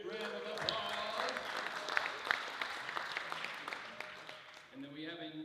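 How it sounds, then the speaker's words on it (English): Audience applause at a Rotary club meeting for the day's caterer, a fairly steady patter of clapping with a few sharper claps that thins out toward the end, with voices talking over it. "Let's give them a big round of applause."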